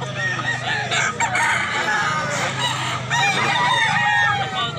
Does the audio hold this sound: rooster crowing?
yes